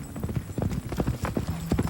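Horses' hooves clip-clopping at a steady, brisk rhythm, several hoof strikes each second, close and clear against a low background.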